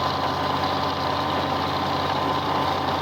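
Close, loud idling of a tractor engine with a fuel sediment bulb and filter, a steady unbroken diesel-like rumble and vibration throughout, no voices.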